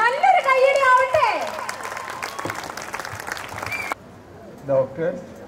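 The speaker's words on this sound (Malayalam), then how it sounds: "ഈ കയ്യടി പോരാ, നല്ലൊരു കയ്യടി ആവട്ടെ." Audience applause at a stage event, a spread of clapping that follows a voice at the start and breaks off sharply near the end.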